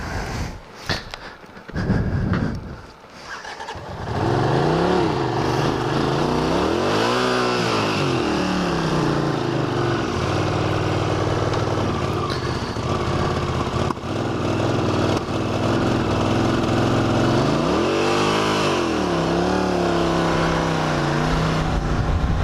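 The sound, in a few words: 1981 Honda CX500 motorcycle engine running cold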